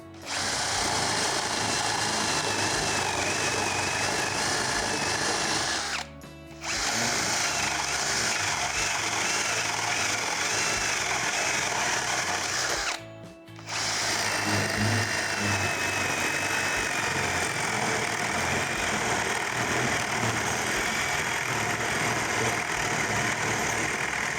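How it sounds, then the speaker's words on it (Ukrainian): A Procraft PA18BL cordless drill whines steadily at second speed as a 25 mm spade bit bores through material, running in long stretches with two brief stops. "Давайте візьмемо пер'яві свердла. Перше діаметром 25 мм. Режим свердлення, швидкість вмикаємо другу."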